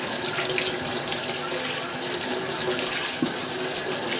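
Tap water runs steadily into a kitchen sink as it is rinsed clean, a continuous close splashing hiss with no talk over it.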